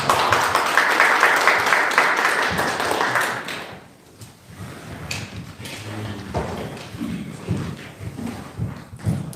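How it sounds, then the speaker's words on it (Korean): Applause from a conference audience at an academic symposium on filial piety in Incheon, a dense burst of clapping for the first presenter that fades after a few seconds, followed by low room noise with faint thumps. "박수 부탁드립니다."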